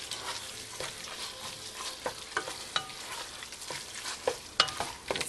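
A meat mixture for pasta fagioli sizzles in a pot while it is stirred and broken up, soft frying hiss beneath repeated scraping clicks of the utensil against the pot, fairly quiet and with no one talking.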